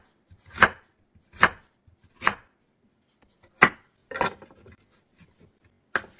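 Autumn radish being chopped with a knife on a cutting board: six sharp, separate thuds at uneven intervals with silence between them, close and fairly loud.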